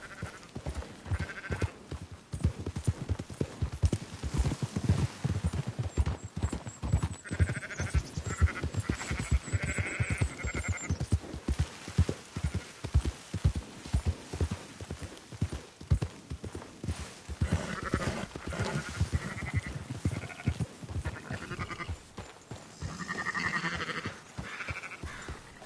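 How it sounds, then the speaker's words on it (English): In a PS4 western ranch game, horse hooves clip-clop in a steady rhythm through most of the stretch while sheep bleat repeatedly over them, with ambient game sound underneath. "Marston, why don't you leave the sheep to me"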